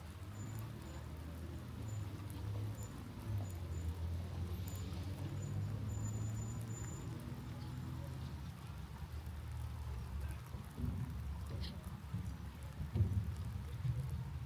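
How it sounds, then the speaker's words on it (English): Light rain falling around a lake by a roadside stop, a soft, steady patter at low level under a low rumble, with a few faint higher ticks scattered through. "Actually just started raining a little bit."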